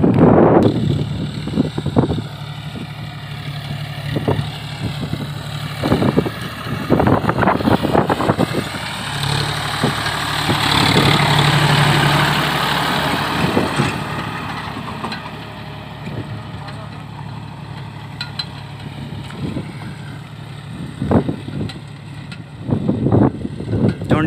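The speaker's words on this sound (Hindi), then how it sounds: "50 हॉर्स पावर का इंजन है इसमें और अभी ये कंप्यूटर मांझे पे चल रहा है" A 50-horsepower John Deere 5050 D tractor engine runs at a steady idle outdoors, a low continuous drone beneath wind buffeting and scattered knocks and handling noises.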